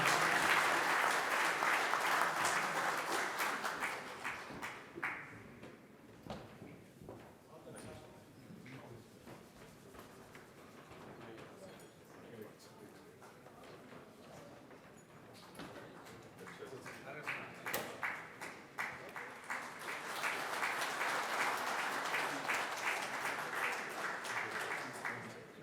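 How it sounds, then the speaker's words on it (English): Applause for CS Sanjeev Chaudhary at a professional seminar swells at the start, then drops to scattered claps and a quiet room with shuffling. A second full burst of clapping rises near the end. "A round of applause, sir"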